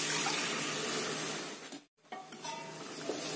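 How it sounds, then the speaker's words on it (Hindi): Water from a glass poured into biryani gravy (salan) in a kadhai after the masala is fried, a steady splashing pour with a brief break in the middle, close and fairly loud. "1 गिलास में डाल रही हूँ पानी"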